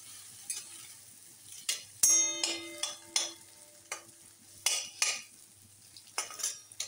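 Eggs for anda bhurji stirred and roasted in a pan, with a spoon scraping and clinking against the metal in irregular strokes over a soft, steady sizzle, close and fairly quiet.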